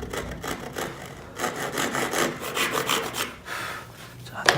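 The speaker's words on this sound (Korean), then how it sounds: "선에 최대한 붙여서 톱질을 한다." A hand saw cutting wood for a dovetail drawer, with steady close back-and-forth rasping strokes in an even rhythm and no talk.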